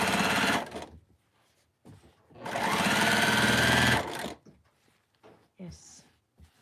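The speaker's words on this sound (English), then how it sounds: "Yes, I love my sewing machine." A Juki sewing machine runs in two loud, fast stitching bursts separated by pauses, with a brief quiet voice near the end.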